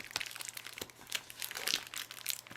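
Plastic and cardboard packaging around an Acase Bluetooth keyboard stand crinkles and rustles as it is opened. The crackling is quiet, close and continuous, with irregular small crunches.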